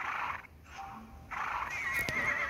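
A horse neighs in the Wildshade horse racing game, two loud whinnying calls separated by a brief lull, with a sharp click near the end and light game ambience beneath.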